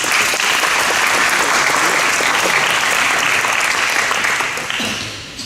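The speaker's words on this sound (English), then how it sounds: "so give them a round of applause" A crowd at a high school academic awards ceremony applauds loudly and steadily, the clapping dense and continuous before tapering off slightly at the end.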